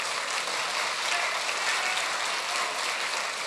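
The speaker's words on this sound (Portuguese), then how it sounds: "Pode aplaudir o Senhor." A church congregation applauding during a service, a steady dense wash of clapping from many hands that holds evenly throughout, fairly loud and without a break.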